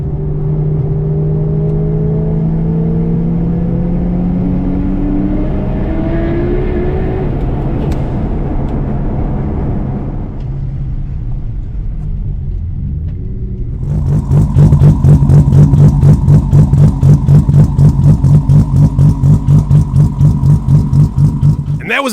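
A heavily modified Nissan R34 GTR Skyline is heard up close: first a rising whirring rev with talking over it, then a lull, then a loud, rapid, pulsing idle-to-rev engine note with clattering mechanical rhythm.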